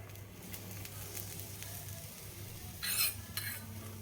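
Jowar uthappam batter with onion, carrot, green chilies and coriander cooking on a pan as oil is poured around it, a steady close sizzle with a brief louder hiss of spitting oil near the end.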